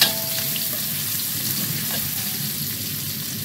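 Chopped sautéing ingredients for a paste fry and sizzle in a pan, a steady close crackle with a few stirring scrapes and no talking.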